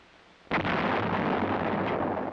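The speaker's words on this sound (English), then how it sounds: "the self-propelled 105mm howitzer" A self-propelled 105mm howitzer fires a single sharp, loud blast that decays into a long, rumbling reverberation.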